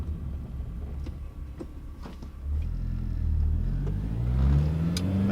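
An 8th-gen Honda Civic Si engine revs up through first and second gear with a short shifter, a close rising rumble that swells and dips at the shift, then climbs again.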